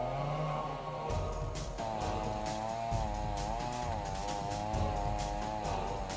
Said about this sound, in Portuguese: Uma serra elétrica ainda, hein, meu amigo?